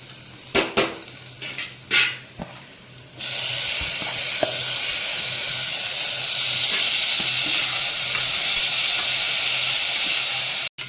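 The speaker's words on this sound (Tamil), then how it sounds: "வெங்காயம் பூண்டும் நல்லா ப்ரௌன் ஆயிடுச்சு. அதுக்கப்புறம் இப்போ தக்காளி போடலாம்." A few spoon clinks against a pan give way to a loud, sudden burst of sizzling as tomato goes into browned onion and garlic, and the hiss then holds steady and close.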